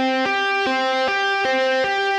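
Distorted electric guitar tapping notes sustain steadily, with a sharp articulation roughly every 0.4 seconds changing the pitch, loud and close with no talking.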